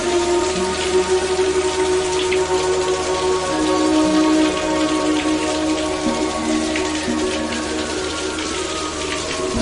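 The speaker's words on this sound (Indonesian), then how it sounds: "sore yang diguyur hujan rintik-rintik" Light drizzle falls steadily in the late afternoon, a soft continuous patter of raindrops on surfaces, evenly spread and unbroken, with no voices over it.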